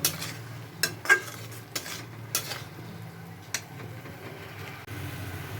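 Paneer with fenugreek leaves is sautéed in a pan under a quiet background sizzle. Several sharp clicks and scrapes from a spoon against the pan stand out intermittently.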